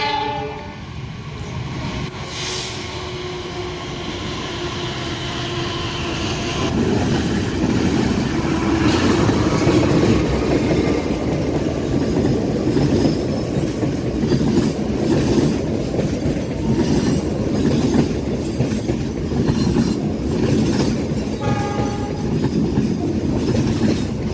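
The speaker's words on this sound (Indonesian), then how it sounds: "Kereta api Argo Lawu kelas eksekutif dan luxury dengan lokomotif CC286-1510 di Poido Yogyakarta" The Argo Lawu executive passenger train rumbles past loudly at Yogyakarta, Indonesia, its CC206 diesel locomotive's engine droning and wheels clattering steadily, with a horn tone near the start.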